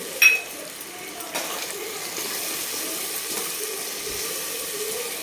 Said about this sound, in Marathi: आणि थोडेसे शेंगदाणे घेतलेत, हे पण परतून घेते.